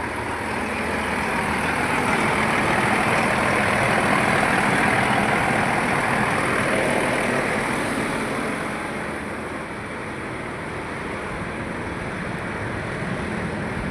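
A vehicle engine with a pickup problem runs steadily, a loud continuous broadband roar that swells slightly and then eases lower, with no voices.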